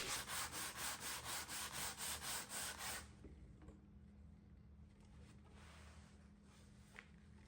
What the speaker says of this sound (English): I'll start with 80 grit, sandpaper, move up to 120, and then I'll finish off at 180.